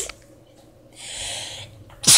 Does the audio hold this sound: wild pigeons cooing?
no